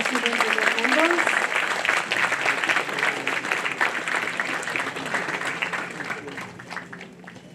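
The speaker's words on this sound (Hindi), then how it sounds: "Can we have a big round of applause for our student union members?" Audience in a college auditorium at an annual prize distribution gives sustained applause for student union members. A voice speaks over the start, and the clapping slowly fades toward the end.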